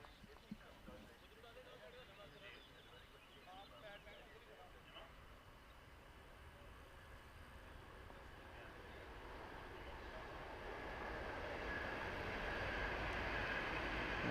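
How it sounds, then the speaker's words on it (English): A train passes close to a cricket ground during a T10 match in Hungary, rising from a faint distant rumble into a louder, steady roar toward the end, with commentary talk heard over it. "That's the horn, and then there goes the train."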